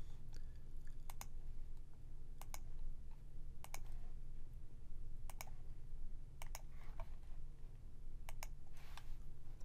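Computer mouse clicks while working in lab analysis software, crisp double clicks repeated about eight times at a steady, unhurried pace, close and clear over a faint hum.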